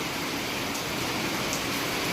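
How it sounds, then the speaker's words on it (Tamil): Heavy rain pours down in a steady, dense hiss that fills the whole clip without a break, with no voices over it. "எவ்வளோ மழை பெய்யுது"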